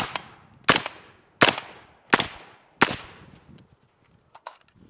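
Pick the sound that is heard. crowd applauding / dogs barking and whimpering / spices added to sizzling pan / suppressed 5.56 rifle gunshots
suppressed 5.56 rifle gunshots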